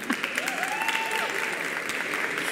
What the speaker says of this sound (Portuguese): Palmas para Ana, gente.